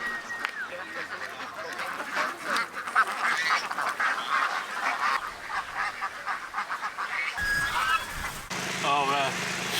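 A flock of ducks on a wine farm quacking and honking continuously, many birds close by in a busy overlapping chorus, with some background noise.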